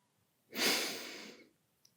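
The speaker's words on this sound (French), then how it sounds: "Inspirez en 2 temps par les narines." A two-part inhalation through the nostrils as part of a calming physiological sigh, heard as one close, soft, breathy intake lasting about a second, with no talking.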